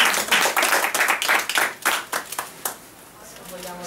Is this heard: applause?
yes